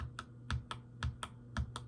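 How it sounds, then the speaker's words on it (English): Typing on a Razer Huntsman production keyboard, a steady run of crisp, evenly spaced keystrokes with deeper thocks on some presses, close and fairly quiet with no talking. "You press the keys and you type."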